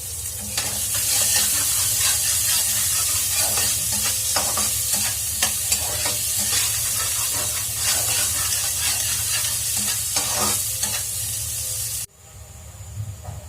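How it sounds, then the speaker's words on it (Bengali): Boiled potatoes fry in hot oil with a dense, steady sizzle and crackle, scattered pops and stirring scrapes on top, until the sizzle drops off abruptly near the end. "এরপরে সেদ্ধ করা আলুটাও ভাজি করে তুলে ফেলবো।"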